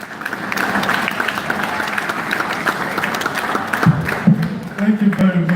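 An audience applauds a speaker at a business talk on branding and networking, with sustained clapping throughout, while a voice speaks over it near the end.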